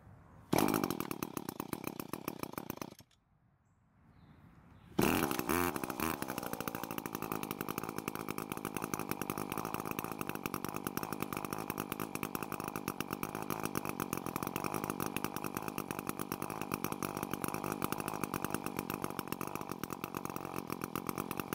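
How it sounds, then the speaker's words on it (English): Small two-stroke engine on a lawn edger running after a carburetor L-screw adjustment: it starts, sputters and stops, then restarts and keeps a steady, buzzy idle for a long stretch, close and loud. "after turning the screw a quarter turn counterclockwise, the engine ran for a lot longer"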